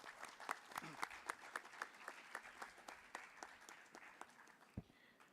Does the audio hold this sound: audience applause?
yes